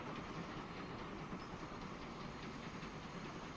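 Train rolling along rails in the video game Transport Fever 2, a steady rumbling clatter with a faint hiss, moderately loud and continuous throughout, no talk.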